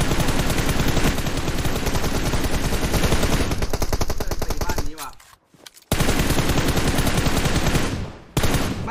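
Rapid automatic gunfire shooting at a car in an online shooter video game, loud continuous bursts of shots with a brief pause mid-way before firing resumes, close and dense.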